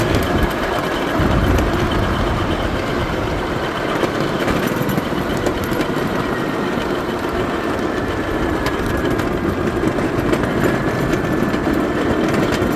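A train working up a steep grade on the White Creek railroad, its engine laboring in a loud, continuous rumbling roar with grinding, clattering rail noise for the whole stretch.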